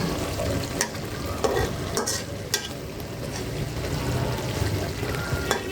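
Pabda fish are sautéed in a pan, with a continuous sizzle broken by intermittent scraping and clinks from stirring.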